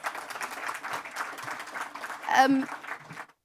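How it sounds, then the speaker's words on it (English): An audience applauds speakers at a silver jubilee speech event, with steady mid-level clapping throughout, voices talking over it and a short louder burst near the end before it stops abruptly. "Another round of applause for them, please."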